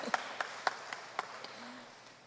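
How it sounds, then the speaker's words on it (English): Sparse, faint applause from a festival crowd at a night gathering, a handful of distinct rhythmic claps spaced evenly before fading out. "Give yourselves a round of applause"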